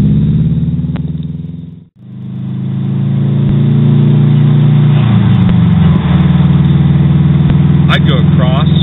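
A turbo-swapped Subaru WRX engine runs steadily and loud throughout, a strong low rumble that cuts out briefly near the two-second mark and then resumes, with a rise in revs toward the end.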